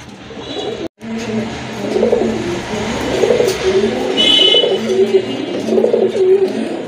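A pet pigeon coos in repeated soft, rolling phrases close by, with a few higher chirps and a brief dropout near the start.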